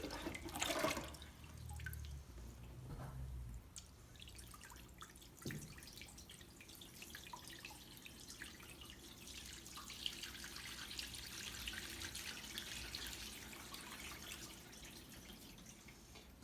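Water draining through a small flood model into an underground pond, heard as faint trickling and dripping with a few louder splashes near the start, then a quiet continuous flow.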